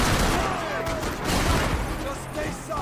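Rapid gunfire from the shooter video game Max Payne 3, a dense, continuous volley of shots mixed with game effects while someone shouts over it.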